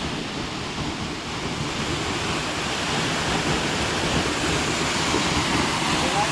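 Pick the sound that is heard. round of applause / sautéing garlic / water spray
water spray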